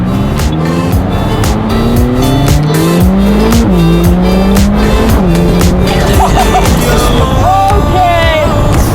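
A car accelerates hard with tires squealing, the engine note climbing loud and close, sliding pitch and a skidding screech near the end; constant and loud throughout.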